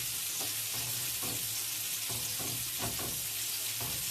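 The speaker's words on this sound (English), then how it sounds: "now they're boiling" Beans for fagioli all'uccelletto cooking on the stove in a pot, a steady bubbling sizzle with soft irregular pops and stirring clicks, close and continuous with no talking.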